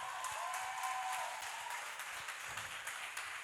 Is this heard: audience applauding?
yes